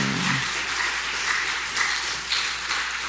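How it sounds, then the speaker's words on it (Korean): A church congregation claps for the worship team after a sermon, a steady, moderate wash of applause from a room full of people with no voices over it. "찬양팀 수고 많았는데 박수 한번 해주시길 바랍니다"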